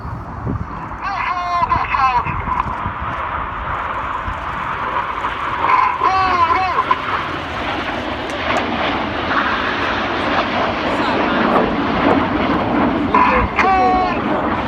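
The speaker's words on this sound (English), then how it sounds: "The 4 jets descending down to treetop height now." Red Arrows display jets fly low at treetop height at the Cosford air show, a loud sustained jet-engine roar that builds steadily, while a commentator's voice talks over it.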